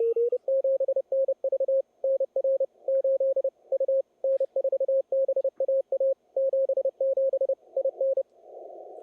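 Morse code CW tones on amateur radio during a Sweepstakes contest, a steady single-pitched keyed beeping in quick dits and dahs running continuously, clear and alone before ending in a burst of static hiss.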